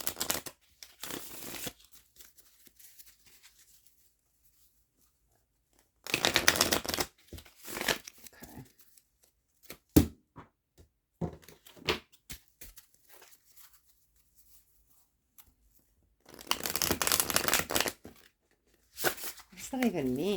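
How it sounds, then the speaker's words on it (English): Tarot cards being shuffled by hand in several separate bursts of crisp riffling and sliding, close and fairly loud, with quiet gaps and brief handling clicks in between. "Let me shuffle these real quick"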